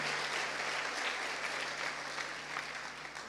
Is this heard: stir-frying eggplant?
no